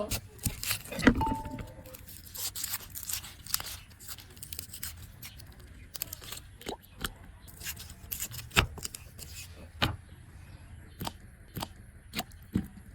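Onions are cut in a kitchen, with irregular sharp knife clicks and chops against a board, some loud and close, spread over quiet gaps.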